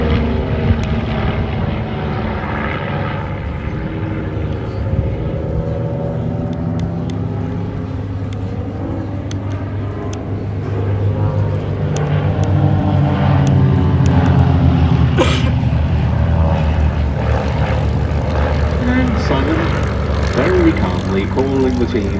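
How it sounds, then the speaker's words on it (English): A Grob Tutor propeller aircraft flies an aerobatic Delta Loop at an airshow, its engine drone loud and sustained, rising and shifting in pitch as it passes, with a commentator talking over it. "So in they come then, with Simon leading the way up for their first aerobatic manoeuvre, the Delta Loop."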